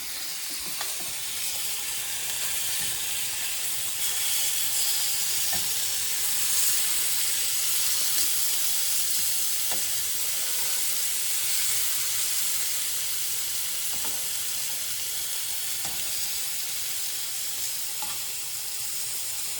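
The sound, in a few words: pork chops sizzling in a frying pan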